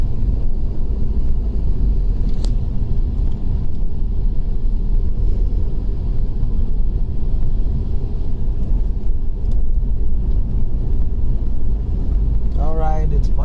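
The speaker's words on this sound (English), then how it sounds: "it's much traffic here" Continuous low rumble of road traffic in Bengaluru with wind buffeting, steady throughout, and a brief high whine near the end.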